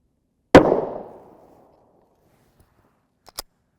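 A single sharp, loud 9x19mm pistol shot with 77-grain copper hollow-point ammunition is fired into a defense gel block and rings out with a fading tail, followed a few seconds later by two faint clicks.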